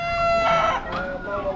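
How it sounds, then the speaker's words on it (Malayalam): A rooster in a town in Nepal crows once, close and fairly loud, the call rising and then trailing off. "നമ്മളെ വെൽക്കം ചെയ്തുകൊണ്ട് ഇതാ ഇവിടെ ഒരു കോഴി കൂവിയിട്ടുണ്ട്"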